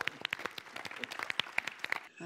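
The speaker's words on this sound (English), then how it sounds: "we give him a warm round of applause" Sparse, scattered clapping from a small group, individual claps distinct and irregular rather than a full ovation, fairly faint, ending with a brief voice.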